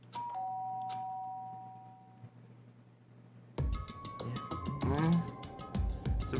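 Doorbell chime in the Danganronpa video game, a clear sustained ding tone near the start fading out, followed by livelier game music and sound effects with a voice briefly heard.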